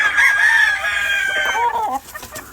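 Gray gamefowl rooster, straight comb and light colored, on a farm: a loud close crow-like call followed by a few short clucks at the end.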